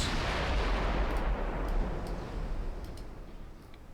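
Heavy 10-inch naval guns boom in a warship video game, a loud deep blast opening and then rolling away into a long fading rumble with faint ticking on top.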